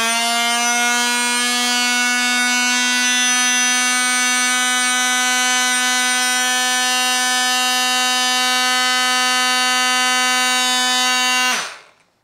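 A FERM 20V cordless oscillating multitool runs at full speed, giving a loud, steady, high-pitched buzzing whine for about eleven seconds before it winds down abruptly to silence.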